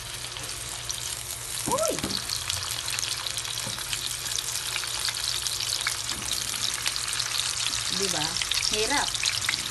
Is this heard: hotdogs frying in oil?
yes